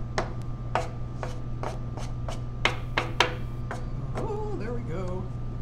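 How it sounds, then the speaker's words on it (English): A bench knife tapping and scraping croissant dough on a work bench, a series of sharp, evenly spaced knocks followed by a brief rubbing scrape, all over a steady low hum with no voice. "I'm going to use my bench knife to square myself off"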